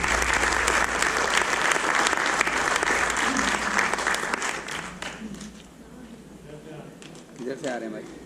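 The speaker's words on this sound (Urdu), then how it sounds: "آپ کی بھرپور تالیوں میں" An audience at a literature and arts stage show in Atlanta applauds a performer, loud steady clapping that gradually thins and fades, with a voice talking faintly under the dying applause near the end.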